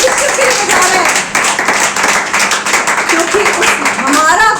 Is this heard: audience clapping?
yes